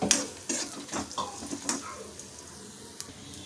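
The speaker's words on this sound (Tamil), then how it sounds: "அடுப்பை லோ ஃப்ளேம்லேயே வச்சுட்டு நல்லா வறுத்து எடுத்துக்கலாம்" Curry leaves and spices dry-roasting in a pan over a low flame, with soft crackles and scraping stirs clustered at the start, easing to a faint, steady hiss. No voices are heard.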